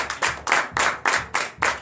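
A church congregation in Comè, Benin claps together in a strong rhythmic unison, sharp loud bursts repeating roughly every quarter second during a Sunday worship service.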